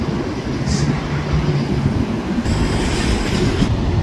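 Freight train with gondola cars and a caboose rolls past at close range, producing a steady rumble of wheels on rails with a metallic squeal rising partway through, in New Westminster, British Columbia.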